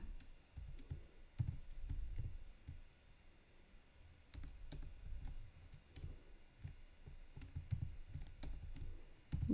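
Quiet keyboard typing comes in uneven bursts of soft clicks and taps, with short pauses between runs of keystrokes, faint and close against a low background hum.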